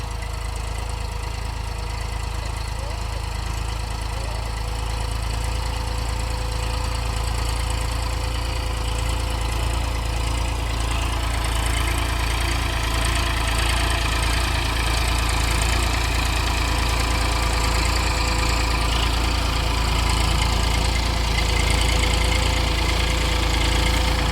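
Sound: tractor engine idling on a sugarcane farm

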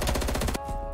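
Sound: sniper rifle gunfire in a video game

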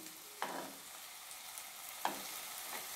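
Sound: half-boiled eggs being mixed into curry in a pan

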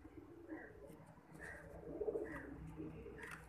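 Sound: pigeons cooing

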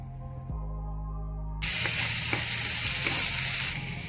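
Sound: pepper, onion, cloves and garlic frying in a pan

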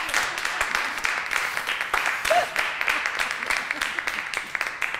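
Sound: applause for a speaker

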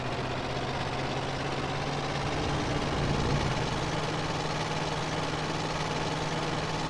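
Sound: van engine idling in GTA San Andreas video game

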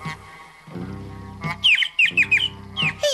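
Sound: baby bird chirping

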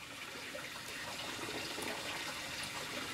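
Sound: water filling up aquaponic solids filter

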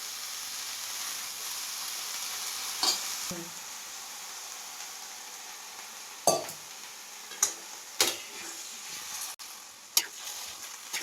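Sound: stirring and mixing gavran harbhara bhaji in a pan

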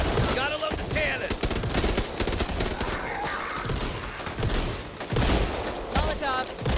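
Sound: cannon firing in the video game Back 4 Blood

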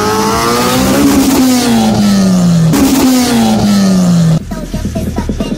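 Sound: cars accelerating off the line in a drag race

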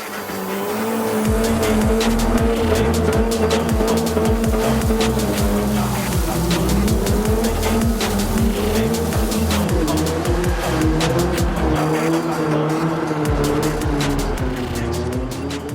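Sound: car drifting with tire squeal in Gran Turismo 7 video game

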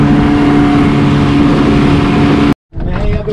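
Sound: motorboat ride on open sea

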